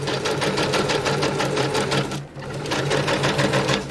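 A sewing machine runs steadily, stitching twice around a fabric journalling spot, its fast rhythmic whirring close and loud, broken by one short pause.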